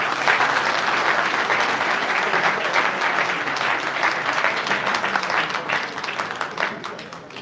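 Audience at a community meeting with Peter Obi in Frankfurt, Germany, applauding in a dense, steady wave of clapping that holds for several seconds and then begins to taper off.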